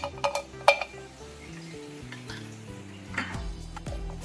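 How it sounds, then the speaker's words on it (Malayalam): Asafoetida pieces stirred and roasted in a pan for homemade sambar powder, with several sharp metallic clinks of utensil against pan early and a quiet, dry scraping and rattling throughout. "കായ അത് ഞാൻ പീസാക്കി എടുത്തിട്ടുണ്ട് അത് നമുക്ക് ഇതിലേക്കിട്ട് ഒന്ന് മരിച്ചെടുക്കണം"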